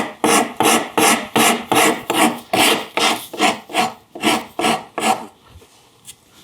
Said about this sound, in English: now I'm going to knock down those corners of that chamfer with a little bit finer rasp